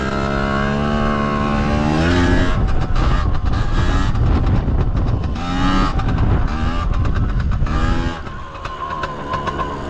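A Chinese Piwi 80 motorcycle revving hard in third gear, its buzzy engine note rising steadily in pitch as it accelerates, then breaking into rougher, choppier bursts before easing off near the end.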